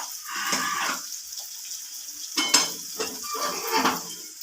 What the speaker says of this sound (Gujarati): હવે જે આપણે લીમડાના પાન લીધેલા છે ને તે પણ આપણે તેમાં નાખી દઈશું.